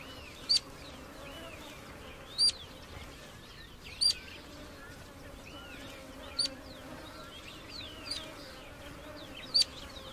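Flying insects buzz faintly in open desert air under midday sun, a thin steady drone with occasional louder passes, while short high bird chirps cut in every couple of seconds.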